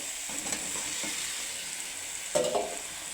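Fried vegetables and packet meat masala, cooked without onion or garlic, are stirred in a sizzling pan. A steady hiss runs throughout, with a few soft scrapes and one louder scrape near the end.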